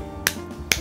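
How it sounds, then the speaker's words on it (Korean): Two sharp, close hand claps about half a second apart, crisp and isolated in an otherwise quiet indoor room. "여러분 박수."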